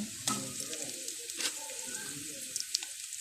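Green chilies fry in oil with already-fried onions, a faint steady sizzle with a few sharp crackles and pops.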